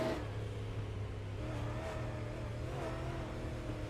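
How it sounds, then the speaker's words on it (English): An IROC series race car on a salt flat track, out of fuel, its engine sputtering as it catches and dies in steady uneven surges, heard close and loud with no talk. "Car is sputtering. You hear it."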